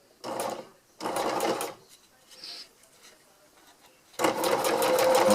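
A sewing machine runs in three bursts of rapid stitching along a rolled hem on tarp fabric, with short pauses and quieter handling between them, the last burst running longest.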